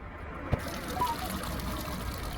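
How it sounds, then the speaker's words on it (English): Dirty liquid drains from the opened cell caps of a dead 12-volt car battery, a steady faint trickle and dribble with one brief knock near the start. "open up all the cell caps and drain the liquid out again"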